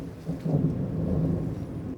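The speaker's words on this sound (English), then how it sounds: "is it loud and thundery here today" Low rolling thunder from a storm rumbles continuously, loud and steady, with a broad murmur that swells and fades over the stretch with no speech.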